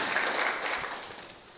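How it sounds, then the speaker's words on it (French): An audience applauding at a gathering, a broad wash of clapping that starts fairly strong and gradually tapers off. "vous applaudissez vous-même pour la qualité du travail."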